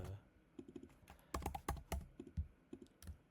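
Keys clatter on a computer keyboard in quick, uneven bursts of close, crisp taps with short pauses between words, fairly quiet and free of talk.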